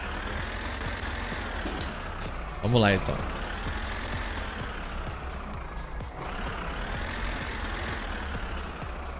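A tractor engine idling steadily in the My Summer Car video game, a continuous low rumble with a brief louder rev partway through. Someone speaks briefly over it.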